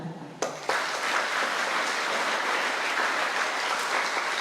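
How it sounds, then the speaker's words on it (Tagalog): Crowd applause at a Filipino religious celebration, starting abruptly and holding a steady, even roar of clapping throughout at moderate level. "Mas maraming palakpak."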